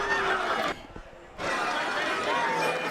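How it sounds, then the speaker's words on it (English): Crowd noise at a rugby league reserve grade grand final, a steady murmur of chatter under commentary, with one short quiet break before it resumes. "You can hear the crowd in the background there too"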